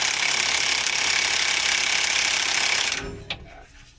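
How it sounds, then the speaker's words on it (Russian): Pneumatic impact wrench loosening U-bolt nuts on the axle of a MAZ truck: a loud, continuous rattling hammer for about three seconds, then it stops abruptly, leaving a brief clank and quieter workshop noise. "Мы откручиваем стремянки"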